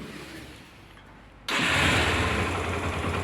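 A quiet low hum, then a Yamaha YBR 125 motorcycle engine abruptly fires up and settles into a loud, steady idle close by.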